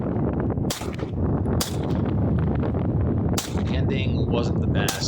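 Rifle shots fired at a 10-inch target about 50 yards away on a competition stage, several sharp loud cracks spaced a second or two apart over steady wind and background noise.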